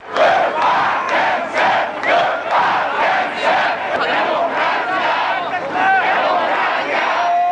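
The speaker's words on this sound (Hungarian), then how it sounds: "már nem csak a természetvédelmiért skandált a tömeg" A large crowd at a Hungarian environmental protest turned political over the Bős-Nagymaros dam, chanting loudly and continuously in rhythmic bursts, a dense roar of voices with pulsing shouted phrases and a few whistles near the end.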